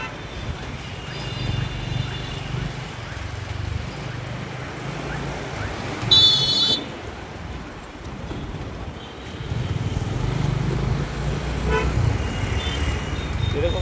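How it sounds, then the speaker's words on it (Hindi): Busy street traffic in Udaipur rumbles steadily with engines passing, and a sharp car horn honks once midway, with a voice faintly present. "यहाँ इधर उधर ट्रैफिक बहुत रहता है"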